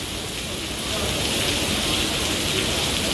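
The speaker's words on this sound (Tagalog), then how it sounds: "Lakas ng ulan guys." Heavy rain pours down steadily outdoors in a dense, unbroken hiss that swells slightly louder partway through, with no voices over it.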